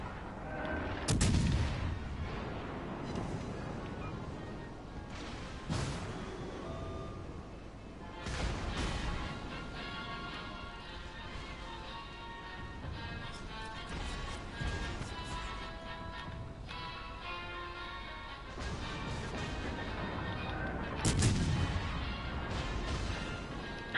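Heavy 12-inch high-explosive naval gun shells fire and strike in a naval warfare video game, a run of booming blasts and crashing impacts spaced irregularly across the stretch, with the two loudest salvos near the start and end.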